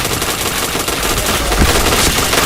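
Rapid automatic gunfire from a multiplayer shooter game, a dense continuous burst of loud shots with a heavier thump partway through, with no voices over it.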